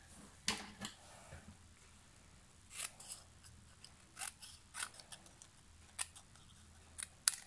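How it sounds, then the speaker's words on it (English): Sharp scissors snip through cardstock for a layered stamped card, a dozen or so crisp, separate cuts spread irregularly and heard close up in a quiet room with no talking. "I think I'll use my scissors actually, I don't trust myself."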